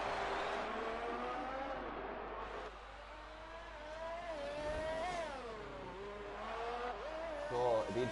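An F2 race car in a racing game screams at high revs through the Singapore street circuit, its engine pitch rising and falling with upshifts and braking, sustained and close.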